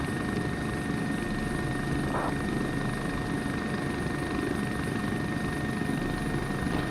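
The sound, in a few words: helicopter landing at a helipad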